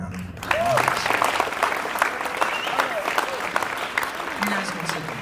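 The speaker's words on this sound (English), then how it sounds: "Give them a round of applause." An audience at a high school honors night applauds conference champions, steady clapping throughout with some voices and cheers mixed in.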